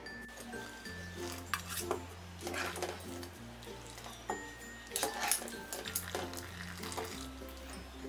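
Boiled rice for prawn biryani is drained in a kitchen, with metal pots and utensils clinking and scraping alongside a faint trickle of water, fairly quiet and close.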